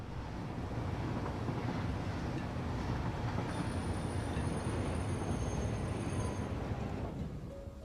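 A train rolling past in the Satisfactory factory-building game, a steady, dense rumble with wind-like noise that holds for several seconds at even loudness, with no talk over it.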